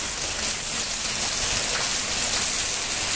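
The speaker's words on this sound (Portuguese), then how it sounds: "olha o tempo de chuva que tá caindo" Dense, steady downpour of heavy rain hissing on surfaces, constant and loud with no voices.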